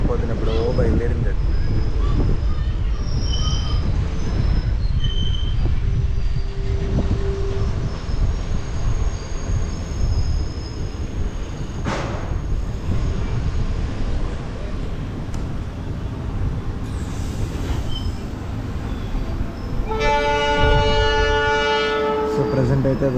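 A Kacheguda to Medak passenger train in India pulls out of the station with a loud, continuous rumble and clatter of wagons, a horn sounding near the end, while people talk nearby.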